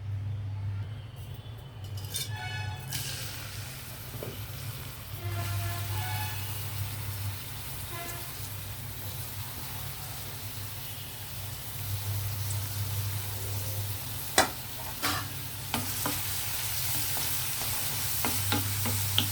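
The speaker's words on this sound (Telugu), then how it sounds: "ఈ ఆయిల్ హీట్ అయ్యాక మనము ఉల్లిపాయలు వేద్దామండి" Chopped onions sizzle in heated cold-pressed oil in a pan, a steady crackling fry throughout with occasional stirring clinks, under a low hum from a nearby appliance.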